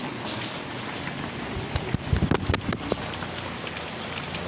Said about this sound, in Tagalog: Medyo matumal yung saging natin ngayon. Maulan eh.